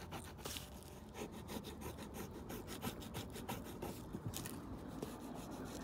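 A coin or fingernail rubs back and forth over a Lidl scratch-card game ticket, giving a steady close rasping scrape for several seconds with no talk.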